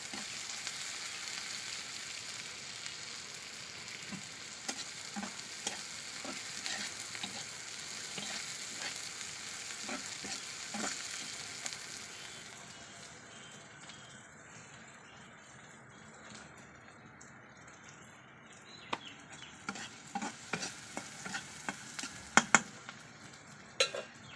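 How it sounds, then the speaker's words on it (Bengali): Small native puti fish from the Dakatia river fry in a pan with a continuous close sizzle that eases partway through, followed by a few sharp utensil clinks against the pan near the end. "যখন মাছগুলো ভাজা হয়ে যাবে, পেঁয়াজ বেরেস্তা করে উপর দিয়ে ছেড়ে দিতে হবে"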